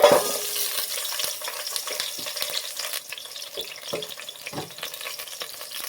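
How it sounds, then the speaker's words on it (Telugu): Paneer pieces fry in oil in a kadai, a crackling sizzle that starts loud and eases off, broken by scattered spatula scrapes and taps. "ఆయిల్ వేసుకున్నాక ఫస్ట్ మనం పన్నీర్ ముక్కలు అయితే ఫ్రై చేసుకోవాలండి"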